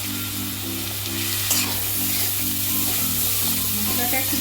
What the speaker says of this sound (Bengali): মশলাটা একটু ভাজা ভাজা হলেই জল দিয়ে দেবো,